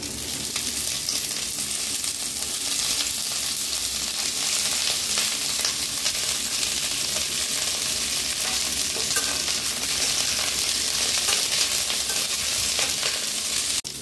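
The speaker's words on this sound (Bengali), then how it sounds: "এরপর আমি সেম ভাবে ফুলকপিগুলোকেও একটু ভেজে নেব।" Cauliflower florets fry in hot oil in a kadai, a dense, steady sizzle that stays loud and constant throughout with faint stirring clatter.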